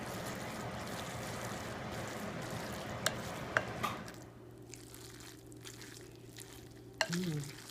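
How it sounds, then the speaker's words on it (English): Fettuccine alfredo with extra cheese being stirred in a pan, a soft continuous scraping and saucy churning close by, with a few sharp clinks of the utensil against the pan. "Mix it in."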